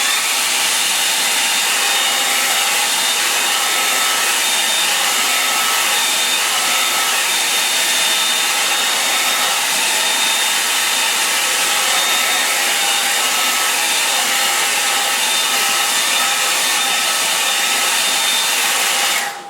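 A hair dryer blows steadily on a painting of a Cornish beach scene, a loud, close, unbroken whooshing drone with a faint high whine, cutting off right at the end.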